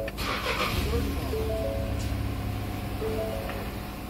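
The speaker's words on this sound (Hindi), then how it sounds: "आप देख सकते हैं गाड़ी स्टार्ट हो चुकी है।" Ford EcoSport engine idling smoothly just after starting, following engine and body repair work, a low steady hum with faint tonal whines, with muffled voices in the background.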